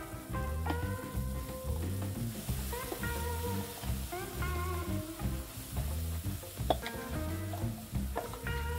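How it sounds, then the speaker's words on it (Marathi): Ground masala paste with tomato and onion frying in hot oil in a pan, a steady close sizzle with rhythmic stirring scrapes and occasional clinks of the spoon against the pan throughout. "आणि वाटण मस्त तेल सुटेपर्यंत छान असं परतून घेऊया."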